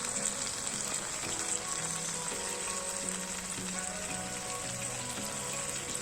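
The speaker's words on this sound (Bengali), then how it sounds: "এইভাবে টমেটোগুলো সেদ্ধ হচ্ছে" Tomatoes cooking in a pan over medium-high heat, giving off a continuous close, even sizzle with faint bubbling and no voices.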